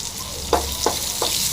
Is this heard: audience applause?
no